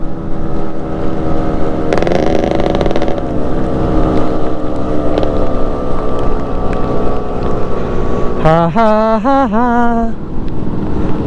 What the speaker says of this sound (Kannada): ಇದು ಸಕ್ಕತ್ ಸೌಂಡ್ ಬರುತ್ತೆ ಗಾಡಿ